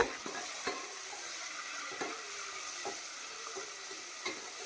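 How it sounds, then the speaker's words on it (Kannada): Sliced onions and whole spices frying in oil for kushka rice, a faint steady sizzle broken by irregular clicks and scrapes of a spoon stirring the pan. "ಇದೆಲ್ಲ ನೀಟಾಗಿ ಕಲರ್ ಚೇಂಜ್ ಆಗೋವರೆಗೂ ಫ್ರೈ ಮಾಡ್ಕೋಬೇಕಾಗತ್ತೆ."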